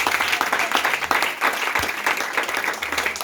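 Church congregation applauding in steady, dense clapping that fills the room, loud and continuous throughout with some crowd noise mixed in.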